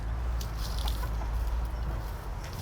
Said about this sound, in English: You guys are crazy, crazy chickens.